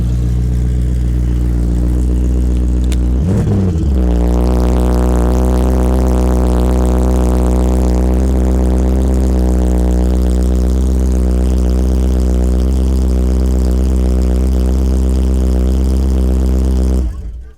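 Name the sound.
Artz Opel Kadett E GSI on Corvette C4 chassis engine revving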